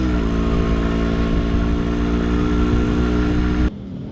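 A 1996 Yamaha RX100 two-stroke motorcycle being ridden, its engine buzzing loud and close at high revs in a sustained pull, then cutting off abruptly near the end.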